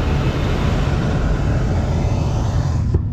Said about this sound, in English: We're dropping the straw in this field, and we slowed our chopper down.